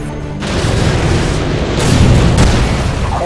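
Missile explosions in the Modern Warfare 2 video game make a loud, continuous rumbling roar that swells over a few seconds, with no talking.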